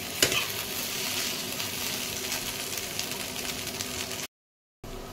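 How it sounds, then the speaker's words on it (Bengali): Paneer cubes stirred with pizza pasta sauce in a hot pan sizzle steadily with faint scraping, continuous and close, before cutting out briefly near the end. "পনিরটাকে নাড়াবো।"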